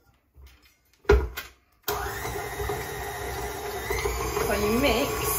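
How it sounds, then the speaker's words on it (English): An electric mixer starts up after a few clicks and a thump, then whirs steadily and loudly as it beats margarine and sugar together, its tone wavering slightly as the mixture thickens. "mix your margarine and sugar together"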